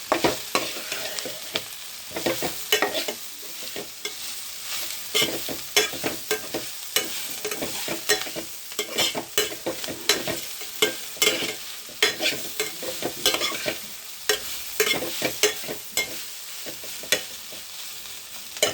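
Ingredients are stirred in a frying pan, with a spatula scraping and clattering in a quick, uneven rhythm over a steady close sizzle. No one speaks.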